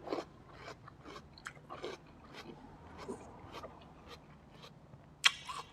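Crisp, sweet, chilled snow lotus (yacon) being bitten and chewed up close, a run of short crunchy bites and chews spread evenly through the stretch, fairly quiet, with one sharper click near the end and no talk.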